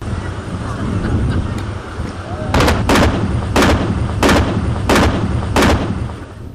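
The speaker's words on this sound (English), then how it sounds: "The sound of the 21-gun salute signaled the arrival of the president" Six loud cannon booms of a 21-gun salute for a president's arrival in Jamaica fire at an even, measured pace over a steady outdoor wind rumble.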